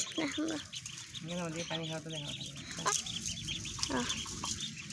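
On a small home farm, ducks call in loud, nasal quacks and honking bursts that repeat close by, mixed with other fowl clucking, while a person talks over them.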